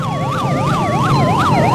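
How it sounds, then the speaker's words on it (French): A loud wailing siren at a Malian welcome celebration, its pitch sweeping up and down in steady repeated cycles, close and continuous over a low rumble of crowd and traffic. "Une sirène retentissante"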